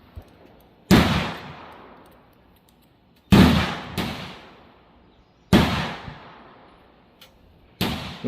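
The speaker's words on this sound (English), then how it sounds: "We're going to shoot it at 100 yards." Muzzleloader rifle firing 420 grain bullets at a 100-yard range: four loud, sharp gunshots spaced a couple of seconds apart, each with a long decaying echo, and no talking.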